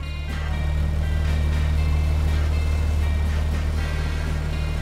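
A horn on a 1937 Chevrolet sounds one loud, steady, droning blast with a deep, buzzy tone, held without a break for nearly five seconds and heard close up with no talking over it.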